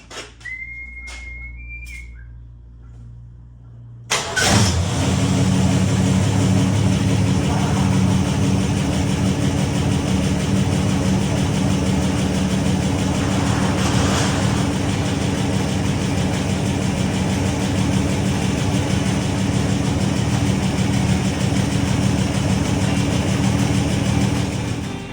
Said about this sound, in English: 65 Mustang is running.